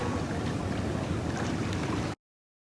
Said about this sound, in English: And then they'll paddle with their foot.